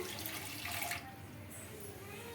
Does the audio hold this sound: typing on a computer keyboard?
no